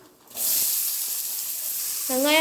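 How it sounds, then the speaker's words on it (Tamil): Onions frying in oil: oil crackles and sizzles loudly after a quiet start as they hit the hot pan, a steady frying hiss, then a brief whistling tone near the end. "வெங்காயம் நல்லா பொன்னிறமாக வதங்கணும்."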